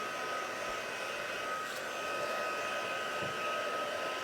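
Close and steady, a hair dryer blows on wet hair with a constant loud whooshing roar and a few faint bumps underneath.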